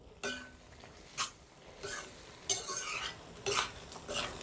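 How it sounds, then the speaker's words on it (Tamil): Ginger garlic paste sautéing in oil for a village-style chicken gravy, with a spoon scraping and clinking against the pot in intermittent bursts over a faint sizzle. "இந்த இஞ்சி பூண்டோட பச்சை வாசம் போகிற வரையும் வதக்கிக்கலாம்."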